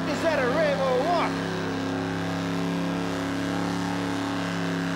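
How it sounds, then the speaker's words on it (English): A supercharged 351 Cleveland V8 burnout car at a Summernats burnout competition holds a loud, sustained high rev that drones steadily throughout, with a voice talking over the first second. "Boy, is he winging that 351 Cleveland with the blower on it."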